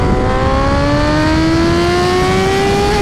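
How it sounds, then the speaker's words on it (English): A supercharged Kawasaki Ninja H2 motorcycle accelerates hard in third gear, its engine note climbing smoothly and steadily in pitch, loud and close throughout with wind rush. "Third gear pulls so hard right now."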